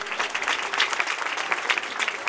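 Applause from a church audience at a Sunday school teachers appreciation gathering, a dense, fast patter of many hands clapping together, continuous and moderately loud.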